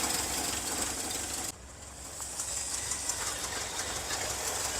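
A Ford F600 truck engine with a Holley carburetor idles low in a steady, continuous rumble, close and fairly loud, with a brief dip in level partway through.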